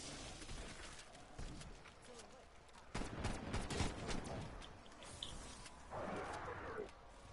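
Gunfire rattles in the Firebase Z map of a zombies video game, with quiet bursts of shots and impacts scattered through the clip, heard faintly under game noise.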